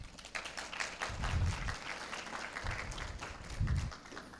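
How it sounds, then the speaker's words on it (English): Audience applause at a youth speech competition finals, a steady patter of many hands with two louder swells, moderately distant in a hall. "You deserve a round of applause."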